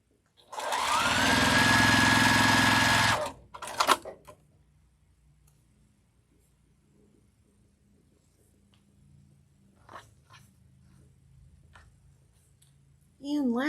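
A home sewing machine stitches the final seam of a pink quilt block in one steady, loud whirring run of about three seconds, followed by near silence with a few faint clicks and taps.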